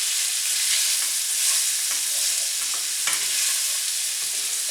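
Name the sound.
quick toss of ingredients with sausage fat and olive oil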